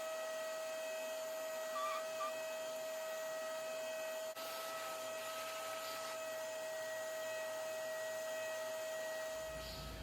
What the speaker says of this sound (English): I'll get a brush and my shop vac